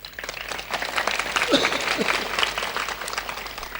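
A crowd at a spiritual satsang gathering in a village claps loudly and continuously, the applause thick and even for the whole stretch with faint voices beneath it.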